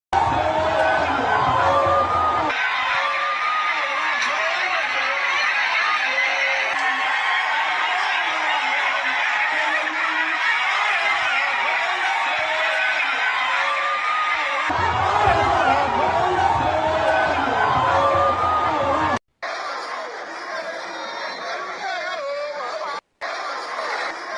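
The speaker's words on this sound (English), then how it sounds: "she was welcomed by an enthusiastic crowd in Akehi local government area" A dense, loud crowd roars and chatters without pause at a homecoming rally in Akehi local government area, Kogi, welcoming a woman who has just arrived by helicopter; the din cuts off abruptly near the end.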